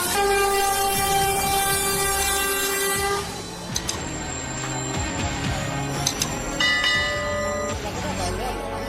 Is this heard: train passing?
yes